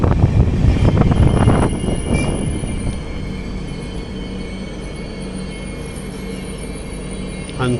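Garib Rath Express under way after leaving Vadakara, its loud wheel roar and clatter up front easing into a steadier, quieter rolling rumble with a faint high squeal.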